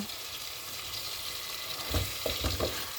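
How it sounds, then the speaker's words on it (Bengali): Tomatoes sautéing in a pan for a snakehead fish curry, a faint steady sizzle with a few soft stirring scrapes near the end. "টমেটো দিয়ে দিয়ে এখন একটু কষাবো কষায় নিব"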